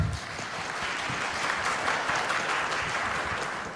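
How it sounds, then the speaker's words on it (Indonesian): Applause from the audience at the launch of an Indonesian digital-generation acceleration movement, a soft, even wash of many hands clapping, heard from some distance and sustained for the full stretch. "Boleh tepuk tangan teman-teman perempuan dong?"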